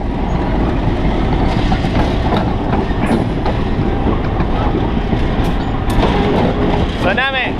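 A diesel locomotive of AFE, the Uruguayan state railway, rumbles steadily nearby with rail clatter throughout, a brief squeal near the end, and people talking faintly underneath.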